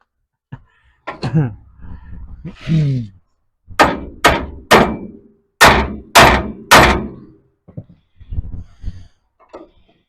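Metal strikes ring out on a 1933 Chevy steering part as a small tab is broken off: a string of sharp, close thunks and whacks, some in quick triplets, separated by short pauses and strained breaths.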